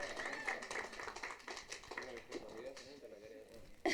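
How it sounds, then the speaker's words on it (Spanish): A church congregation claps during a sermon, with scattered, moderate applause mixed with voices and people talking over it. "Denles un aplauso a estos siervos tan lindos que son."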